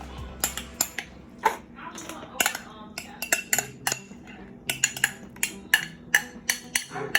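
Small metal pans and cutlery clink and clatter close by as buffalo chicken dip is made, with sharp irregular knocks and scrapes in quick runs throughout, and faint talk in the background.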